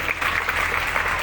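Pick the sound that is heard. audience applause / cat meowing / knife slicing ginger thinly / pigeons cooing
audience applause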